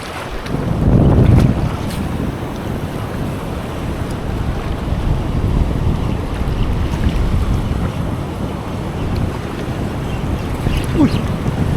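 Strong wind buffets a fishing boat at sea, roaring steadily against the microphone with a louder gust near the start, over a low rumble of water and hull.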